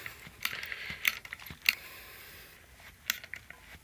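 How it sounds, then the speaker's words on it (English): Hand-operated hydraulic pump worked to crimp an A/C hose fitting for an R134a conversion, heard as several sharp metallic clicks and clanks at an uneven rhythm, close and fairly quiet, with short pauses between strokes. "Close the valve and then start pumping the valve, pumping the hydraulic pump."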